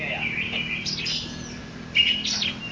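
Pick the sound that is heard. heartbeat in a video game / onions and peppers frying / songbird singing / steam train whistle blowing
songbird singing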